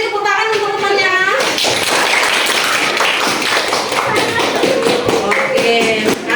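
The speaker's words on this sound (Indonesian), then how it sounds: "beri tepuk tangan untuk temannya" Classroom clapping by students during a science lesson, a burst of quick overlapping claps mixed with children's voices and a teacher talking.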